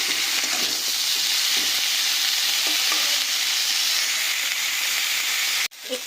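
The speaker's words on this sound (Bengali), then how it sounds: "আমি তাড়াতাড়ি করে একসাথেই সবকে ভেজে নিচ্ছি" Mixed vegetables, eggplant among them, frying together in a pan for a Bengali prawn chorchori, a loud continuous sizzling hiss that runs steadily and then cuts off abruptly near the end.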